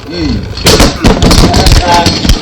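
Beyblade Burst Rise spinning tops collide in a vertical drop battle stadium and burst apart, giving sharp plastic cracks and clattering hits in a quick, irregular series that stand out loud against a quieter background.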